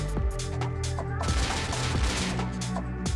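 AK rifle fire in the video game Rust comes in rapid bursts of sharp, loud cracks, a tight run of repeated shots with short gaps between volleys.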